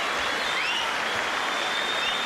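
A boxing crowd at the Alex Arthur vs Steve Foster Jr fight bursts into dense, sustained applause: an even wash of many hands clapping at once, with faint whistles riding over it, loud and unbroken.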